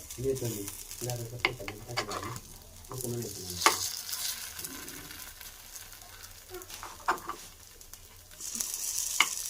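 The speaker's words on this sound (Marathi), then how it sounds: "असेच आता मी सगळ्या सगळे आपे आता असे मी पलटी करून घेऊन भाजून घेते" Appe (paddu) cooking in an appe pan after being flipped: a soft, low sizzle with a few light metallic clinks and scrapes, fairly faint, with brief voice-like sounds near the start.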